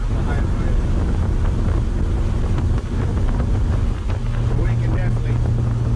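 A 1956 Ford F-100 pickup truck cruises on the highway in fifth gear, its low steady engine drone buried under heavy wind and road rumble, with someone speaking over the noise.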